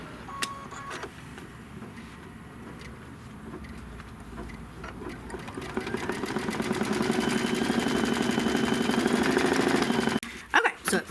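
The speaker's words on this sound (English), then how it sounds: "So now I just have to send that over to the embroidery machine and then stitch this off." An embroidery machine stitching a mug rug design: a quiet start with a few clicks, then a steady rapid mechanical whirring that builds and holds, ending with a handful of sharp clunks as it stops.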